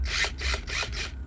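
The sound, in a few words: power drill running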